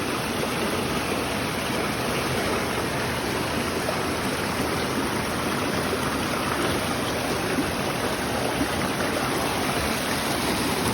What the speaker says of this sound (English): You can hear the river in the background.